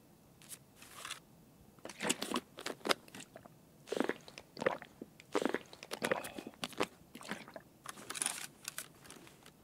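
Noisy open-mouthed chewing, loud close smacks and crunches coming in irregular bursts throughout, alone with no speech.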